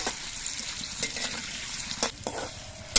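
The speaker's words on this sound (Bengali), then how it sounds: "সবগুলো পনিরের পিসই আমি ভেজে নিচ্ছি" Paneer pieces frying in a pan of oil over a wood fire, a steady sizzle with several short scraping stirs and clinks of the utensil, close and fairly quiet, no talking.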